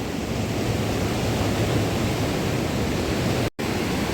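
Fast-flowing, clear Ganga river water at Haridwar with a dam opened upstream, a loud, steady, broadband rush that stays close and constant, briefly cut by a momentary dropout near the end.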